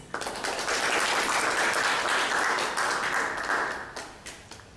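An audience at an evening lecture on law and administrative acts gives a dense, loud round of applause to welcome a doctor to the podium, sustained for several seconds before tapering off.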